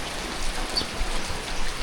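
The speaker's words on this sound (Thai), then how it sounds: "เจอฝนนี่เนาะฝนนี่ก็ตกคักแท้เนาะ" Heavy rain pours steadily in a rural village during a wedding celebration, a dense continuous hiss of drops close by with no pauses.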